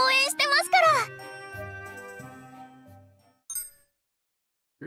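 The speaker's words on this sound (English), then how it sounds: "Three witch bells." Three witch bells chime in the video game Labyrinth of Galleria, bright tinkling hits near the start over a voice, with a few softer ringing tones fading out and a brief chime near the end.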